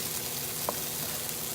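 Cauliflower jollof rice cooks and is stirred in a pot over low heat, giving a steady soft sizzle and frying hiss throughout with one brief faint clink midway.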